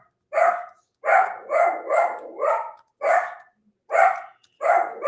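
A pet dog barking, a series of about eight loud, close barks in a steady rhythm with short gaps, alone without talk.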